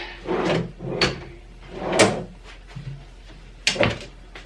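Desk drawer being pulled open and pushed shut indoors, a series of four or five short sliding thumps and knocks spread out at close range, with no talking.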